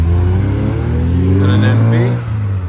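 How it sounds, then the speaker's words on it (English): Mazda MX-5 NA roadsters pulling away from a Japanese car meet in Reading, a close, loud engine drone with rising revs as they accelerate off, fading slightly at the end. "We've got a couple MX-5s leaving late, NA."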